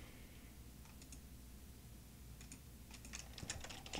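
Username typed on a computer keyboard, a faint, quiet patter of key clicks that starts sparse and grows into a quicker burst of taps toward the end, with no talking.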